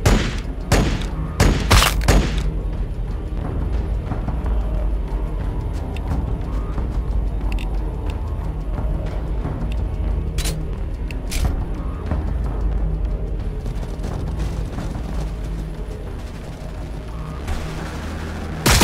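Gunfire in the Warhammer 40,000: Battlesector strategy game opens with a quick cluster of sharp cracks, then settles into a steady rumbling battle din with scattered distant shots.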